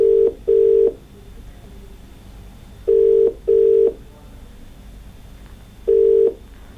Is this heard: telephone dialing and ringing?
yes